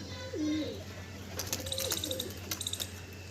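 Pigeons coo softly a few times, low throaty calls, with brief higher chirps from other birds over a faint steady hum.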